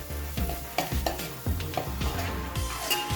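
Onions fry in hot oil with a pinch of turmeric for a green chilli gongura chicken dish, a steady sizzle broken by repeated close stirring scrapes of a spoon against the pan.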